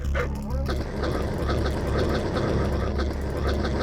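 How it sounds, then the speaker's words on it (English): Attack dogs bark and yip repeatedly in Command & Conquer: Red Alert (1996), a Soviet mission, the sharp barks closely spaced and loud over the game's background sounds. "Quickly move away and get my dogs in pursuit of him."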